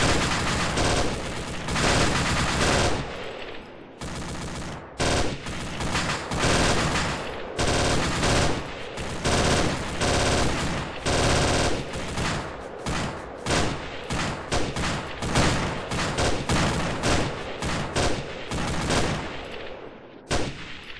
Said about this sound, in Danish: Der bliver stadig skudt derhen.